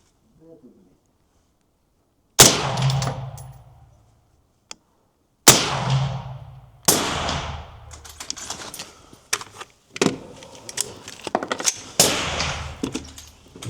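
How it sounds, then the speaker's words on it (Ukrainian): A Steel Pegasus XL Air air rifle fitted with a titanium silencer fires several sharp, close shots, each with a short decaying tail, followed by clicking and handling noises between them. "Роблю три постріли в праву мішень, буду цілитись дещо нижче."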